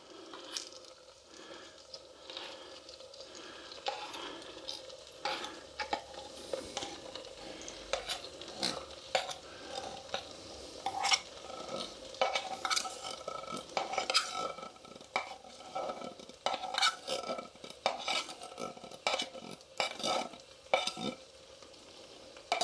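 Baked beans are stirred into a sizzling breakfast fry-up in a Trangia camping stove pan: close, continuous frying hiss with repeated scraping stir strokes and light clinks of utensil on pan.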